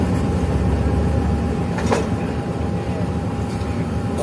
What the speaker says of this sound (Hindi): तेजगाम एक्सप्रेस RG245201 के साथ तेज हो चुकी है कराची कैंट रेलवे स्टेशन के प्लेटफॉर्म नंबर 1 पर।